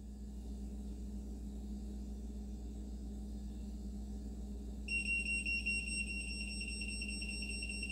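A Seesii X4A handheld gas detector senses a leak from a stove's unlit gas. It sits quietly over a low rumbling background, then sounds a high, pulsing electronic beep alarm for the last few seconds.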